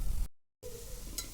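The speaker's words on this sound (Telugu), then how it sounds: "ఇది మంచి రెడ్ కలర్ అయ్యే వరకు ఫ్రై చేసుకోవాలి" Food fries in a pan, a brief crackling sizzle that cuts out to total silence for a moment, then returns softer with a faint stirring scrape.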